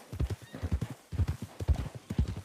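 Donkey running in Red Dead Redemption 2, hooves clip-clopping in a quick steady rhythm, close and fairly loud, in three bursts with brief pauses between them.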